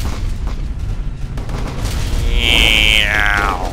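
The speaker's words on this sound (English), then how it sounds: "Okay, let's activate our burn drive in just a second." A ship's burn drive kicks in during the space combat game Starfarer, opening with a low rumbling roar that swells into a loud, rising and then falling engine whine near the end.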